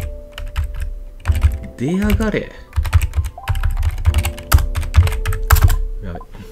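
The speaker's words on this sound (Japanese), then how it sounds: "やべ、タイピング疲れるなこれ。" Rapid clattering keystrokes on a computer keyboard during an online werewolf deduction game, steady and close throughout, with someone talking over the typing partway through.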